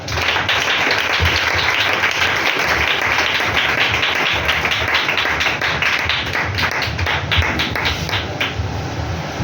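A church congregation applauding God during a service, dense sustained clapping from many hands that fills the space loudly and evenly throughout.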